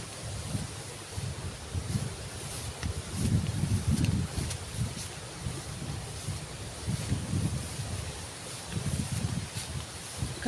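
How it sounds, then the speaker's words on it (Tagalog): Steady, gusty wind by the sea roars across the microphone, with low rumbling buffets swelling and easing throughout and no voices. "lakas ng hangin"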